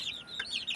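Native chickens clucking softly, a short run of faint, close chirpy clucks with no talk.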